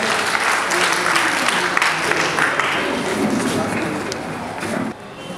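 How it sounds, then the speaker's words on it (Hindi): Dense applause from an audience welcoming an association president at a senior ball badminton championship prize distribution, sustained and loud throughout, easing slightly before a drop near the end. "जोरदार ताली बजा करके उनका स्वागत करें"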